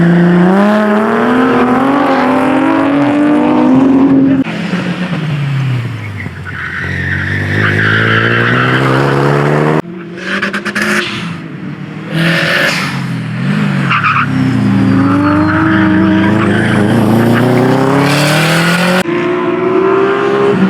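Race cars at a time attack championship final, engines revving hard and tires squealing in long skids, loud and close with a sudden cut midway before more screeching passes.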